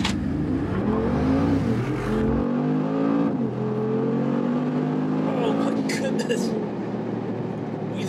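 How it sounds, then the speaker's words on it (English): A Brabus G800, a modified Mercedes-AMG G63 SUV, roars as it launches hard, revving up through rising pitch and a gear change, loud and close, with a voice talking over it. "The most terrifying thing we could do to start it off would be a launch"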